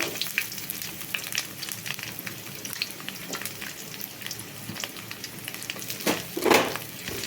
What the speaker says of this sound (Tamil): நல்லா வணக்கி விட்டுறலாம். வெங்காயம் நல்லா வணங்கிருச்சு.